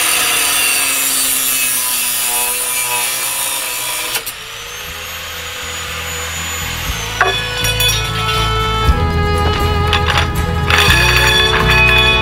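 Metal conduit being cut into 29.5 inch pieces for a worm bin build, with harsh grinding and rasping cutting strokes that change pitch and texture across several passes, close and loud with no talking.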